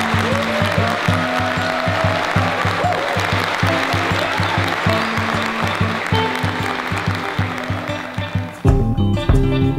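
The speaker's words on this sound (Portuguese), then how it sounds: "vamos acompanhar este momento com uma poderosa salva de palmas" Wedding guests give a sustained round of applause, dense clapping from a crowd that runs throughout and swells slightly near the end, with a rhythmic musical beat underneath.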